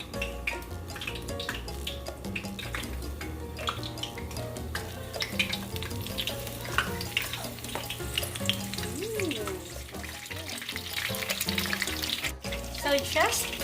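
Steady oily sizzling of mushrooms frying in a pot, continuous and close, with occasional clinks and stirring noises.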